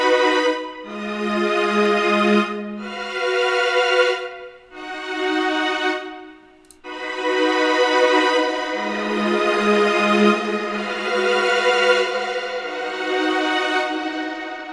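An orchestra preset run through a lush reverb effect, with sustained, harmonically rich chords that swell and shift across several long sections, separated by brief dips, and a low drone that comes and goes beneath them.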